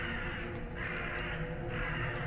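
A crow caws in the video game The Dark Occult, with two or three harsh, drawn-out calls in quick succession over a quiet ambient background, moderately close.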